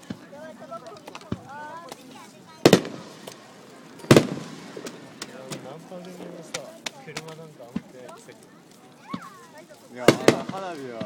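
Several loud booming bursts of fireworks at a fireworks festival go off at irregular intervals, some in quick pairs, while people talk throughout.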